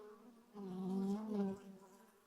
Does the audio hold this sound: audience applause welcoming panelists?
no